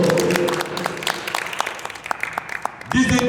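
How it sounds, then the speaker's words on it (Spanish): A church congregation applauds for the Lord at a sermon in Celaya, Mexico, with scattered claps and voices over it, ending as a voice speaks again. "Un aplauso fuerte para el Señor."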